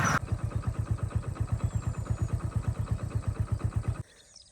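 A man rides past on a motorbike, its engine chugging in a quick, regular low beat close by before cutting away abruptly near the end.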